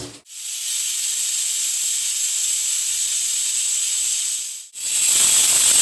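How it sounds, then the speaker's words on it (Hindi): A pressure cooker cooking biryani vents steam in a loud, sustained hiss lasting about four seconds, briefly breaks off, then bursts out again strongly. "तो सीटी भी दे चुका है"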